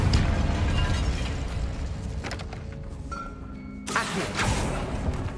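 A Confringo blasting spell in Hogwarts Legacy bursts with a loud boom and rumbling crackle, fades briefly, then a second blast erupts near the end.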